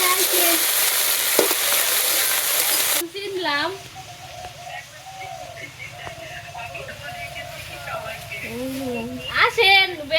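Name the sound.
frying and stirring red amaranth greens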